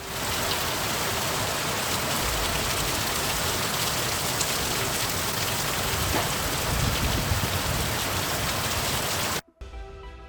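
Steady, dense heavy monsoon rain pouring down without pause in Mumbai, a loud broadband hiss that cuts off abruptly near the end.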